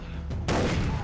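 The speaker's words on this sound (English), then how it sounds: "Shotgun time." A shotgun blast in Far Cry 3 erupts after a brief low rumble, a single loud close boom that lingers into a noisy tail.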